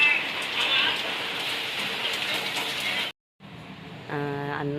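Light rain falls as a steady, soft hiss for a few seconds. It cuts off briefly, then resumes while a voice speaks over it.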